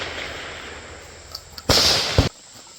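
A Mac 1014 shotgun fires Federal Upland shells outdoors as one sharp, loud blast with a brief ringing tail, coming after a quieter stretch of faint background noise.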